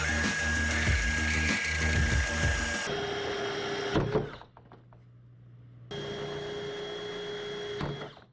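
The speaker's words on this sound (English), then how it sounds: "These cutters have a much cleaner concentric cut than a drill bit that may walk." An annular cutter bores through the steel of a Honda S2000 trunk lid, a loud continuous whine with rattling chatter that drops off after cutting through, then a second run starts up at a steady pitch.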